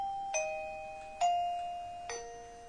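Three clear chimes from a mini doorbell, evenly spaced, each bright tone ringing out and decaying before the next.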